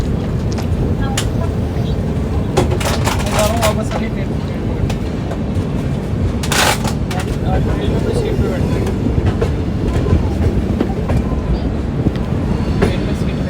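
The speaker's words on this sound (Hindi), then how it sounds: "सामने से कोई तो ट्रेन वडोदरा स्टेशन पर अराइवल हो रहा था।" A train pulls into Vadodara station on the opposite track while a passenger train stands at the platform. There is loud, continuous rumbling and wheel clatter close by, with a few sharp metallic squeals.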